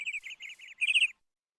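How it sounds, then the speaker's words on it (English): A small bird in the Minecraft modpack GregTech New Horizons gives a series of clear, high chirps in short bursts, ending with a louder trill, crisp and close with no other sound. "What are you, little birdie?"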